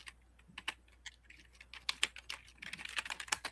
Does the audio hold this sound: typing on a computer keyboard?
yes